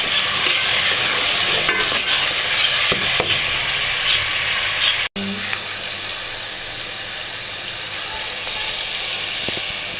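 Green chili chutney cooking with ridge gourd in a handi pot, a close sizzle with scraping and clinking of stirring in the first half, then a brief dropout and a quieter, even simmer hiss afterward.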